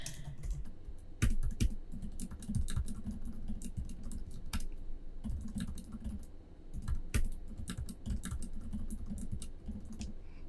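Rapid clicking of computer keyboard keys during a coding session, with uneven bursts and brief pauses that continue steadily and close-up for about ten seconds, with no voices.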